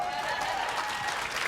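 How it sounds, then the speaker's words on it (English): Steady audience applause fills the moment at a sales and marketing seminar, dense clapping sustained at even loudness with a faint crowd murmur beneath it. "You can go ahead and give that a round of applause."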